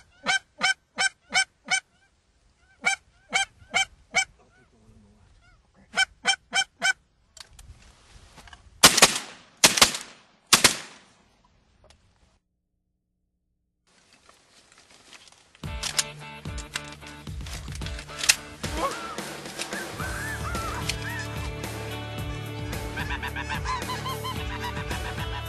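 Snow geese honking in flight during a Manitoba hunt: short bursts of repeated honks, then a couple of loud sharp shotgun blasts, followed by a dense, continuous clamour of a huge flock calling overhead.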